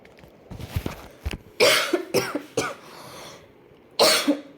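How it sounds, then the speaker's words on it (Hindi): A few harsh coughs from a teacher during an online class, in separate bursts, close and fairly loud, with short pauses between them and a throat-clearing quality. "सॉरी, मुझे खांसी आ रही है,"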